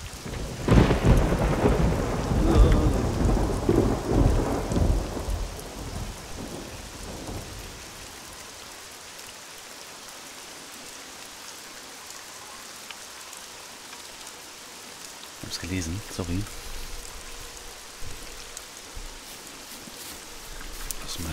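Rain pours in the survival game SCUM, with a loud rumble of thunder early on that fades into steady hissing rainfall. A voice speaks briefly near the end.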